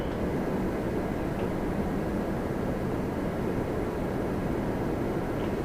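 A steady, loud jet engine roar from an Embraer 175 airliner at Toronto Pearson airport, an even broadband rumble holding throughout without a clear rise or fade.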